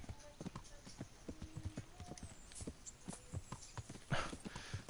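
Horse hooves clip-clop in an irregular, trotting rhythm in the video game Kingdom Come: Deliverance, fairly quiet, with a brief whinny-like tone and faint background sounds.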